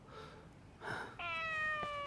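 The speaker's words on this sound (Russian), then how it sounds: "Это твоя кошка?" A cat meows once, a clear drawn-out meow near the end after a brief soft rustle, fairly close and quiet in an indoor scene from a drama, with no talk.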